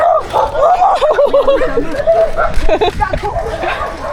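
A dog barks and yelps repeatedly nearby, mixed with excited shouting voices and general commotion.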